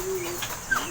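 Pigeons cooing on a rooftop, a short faint coo or two over quiet outdoor background with a brief louder chirp near the end.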